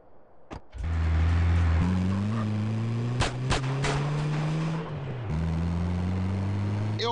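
A car in the game GTA San Andreas starts up and revs away in a steady, loud engine drone, its pitch stepping up through gear changes, with a few sharp bangs partway through.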